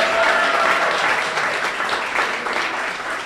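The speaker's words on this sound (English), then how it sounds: "a big round of applause for her" Steady applause from a crowd at a bank's art alley ribbon cutting, loud, close and sustained throughout without letting up.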